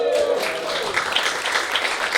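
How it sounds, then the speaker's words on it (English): An audience gives a round of applause for an eBay for Business award winner, dense clapping throughout, with a voice briefly heard at the start. "we'll give him a big round of applause for this"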